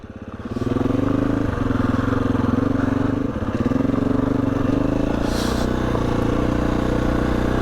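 A motorcycle ridden over a fallen tree trunk on a trail, engine droning loud and close at a steady low pitch, with brief clatters and a dip as the bike climbs over, no talk.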